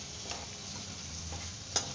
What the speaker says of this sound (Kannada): ಉದ್ದಿನ ಬೇಳೆ, ಕಡಲೆಬೇಳೆ ಹಾಕಿದೆ, ಅದನ್ನು ಚೆಂದಾಗಿ ತಾಳಿಸ್ಕೋಬೇಕು